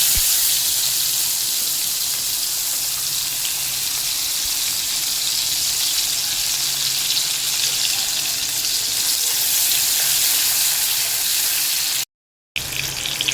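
Chopped onions sizzle loudly in hot oil in a pan alongside fried shol fish, a steady close hiss and crackle that runs unbroken except for a brief dropout near the end.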